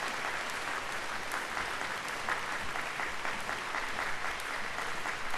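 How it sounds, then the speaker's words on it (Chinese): Audience applause fills a concert hall after a Chinese traditional orchestra performance by the Kaohsiung City Chinese Orchestra's citizens' ensemble. The clapping is steady, even and moderately distant, lasting several seconds without a break. "再次掌声。"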